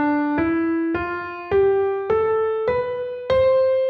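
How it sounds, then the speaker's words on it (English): Seven notes of a major scale climb steadily on a pitched instrument, each struck clearly and ringing briefly before the next, alone with no talk. "A major scale sounds like this."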